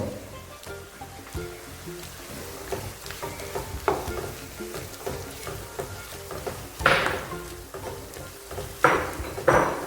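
Garlic and ginger sizzle as they are fried in a pan with curry leaves for a traditional Kerala chicken curry, a continuous crackling hiss broken by stirring scrapes and a few louder spitting bursts near the end.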